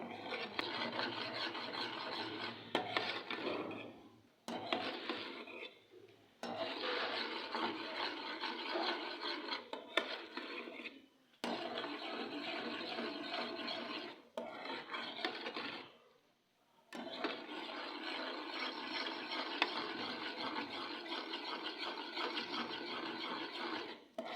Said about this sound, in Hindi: स्पून आपने मुसलसल हिलाते जाने ताकि कस्टर्ड जो है वो नीचे ना लगे।